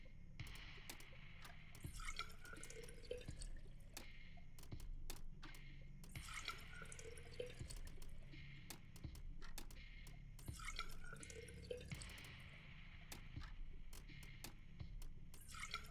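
Water trickling and dripping into a container in a video game, a steady liquid fill with intermittent drips and small splashes running throughout at a moderate, even level, no talking.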